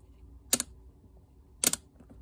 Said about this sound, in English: it makes little clicking noises, so you can basically stick her to any kind of platform